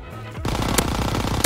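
Call of Duty WW2 gunfire cuts in as a fast burst of automatic shots, loud and close, rattling on with sharp cracks for the last second.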